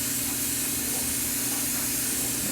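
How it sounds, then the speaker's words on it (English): An airbrush sprays Badger Stynylrez primer in a steady, unbroken hiss that holds at an even level for the whole stretch, with no talking over it. "So I'm gonna go ahead and spray"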